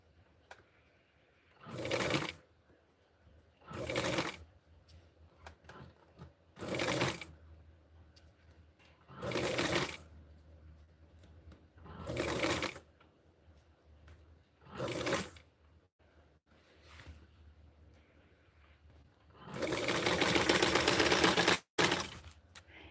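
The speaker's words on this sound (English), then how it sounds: "I'm sewing it really close to the edge." A sewing machine stitches close to the edge of a Barbie doll dress in about seven short, even bursts of whirring separated by quiet pauses, then a longer, louder run near the end.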